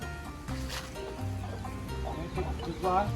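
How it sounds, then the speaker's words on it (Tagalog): Chickens cluck and squawk close by in an outdoor farmyard, with people talking over the birds throughout. "Ayan yung manok ni Tatang nandun oh"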